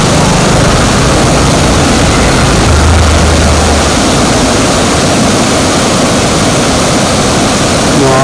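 Torrential water pours through the Seethapalli waterfall stream near Rampachodavaram, making a constant, powerful roar close by. The rushing continues evenly for about eight seconds, with a brief low rumble partway through.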